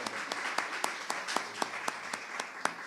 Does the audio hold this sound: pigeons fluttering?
no